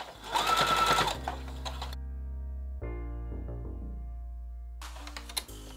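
A sewing machine stitches fabric for a shirt placket, running in a loud burst, then idling with a steady hum, then whirring again in a short final burst, with no voices.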